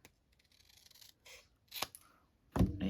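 Scissors snipping through paper scraps for an altered paper clip craft, a few crisp close cuts spaced irregularly in a quiet room, ending with a louder rustling snip.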